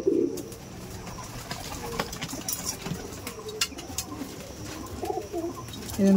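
Rampuri pigeons coo in soft, throaty bursts at close range, several calls overlapping against a busy background of faint rustling and clatter, with no speech.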